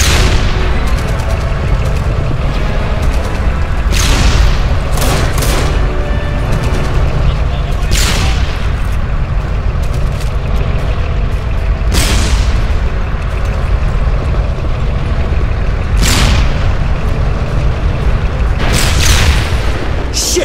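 Panzerfaust rockets and gunfire roar through a battle in the video game Enemy Front, with loud booming blasts recurring every few seconds over a constant heavy rumble of combat.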